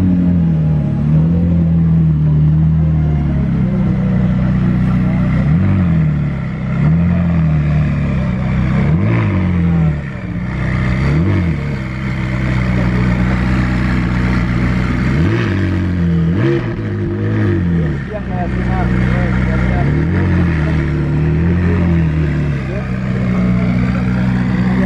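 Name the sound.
McLaren 675 LT engine driving away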